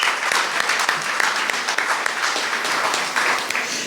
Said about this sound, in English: Let's have another round of applause of appreciation.